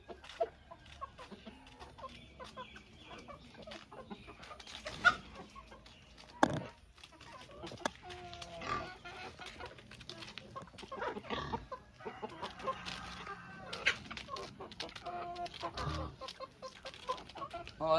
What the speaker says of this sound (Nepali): यस्तो खान्छ है कुखुराहरूले चाहिँ